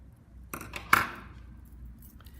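Scissors snip through sewing thread during hand stitching, giving two short, crisp clicks close up, the second sharper and louder, against a quiet room.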